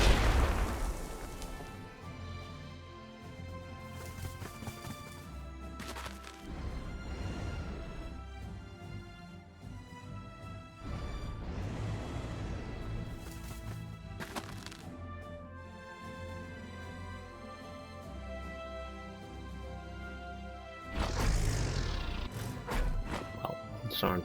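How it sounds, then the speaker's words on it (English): Artillery shells boom during a bombardment in the wargame Panzer Corps 2. Several heavy booms land spaced across the stretch, the loudest near the end, while a voice talks over them. "And now we can start the bombardment process."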